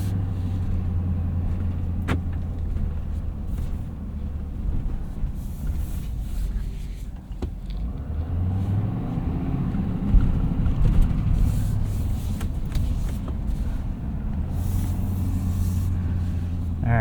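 A 2026 Ford F-450 Super Duty Platinum dually pickup with a 6.7L Powerstroke diesel rolls slowly, a steady low engine rumble and road hum continuing throughout, with a gentle swell as it maneuvers.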